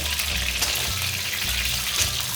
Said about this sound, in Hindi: कम ही तेल में करना है इसे फ्राई, ताकि ये हल्की हल्की तल जाए